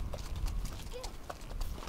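Hooves clip-clopping during a horse ride on a road shared with cars and motorbikes, a series of close, rhythmic clops over low background noise.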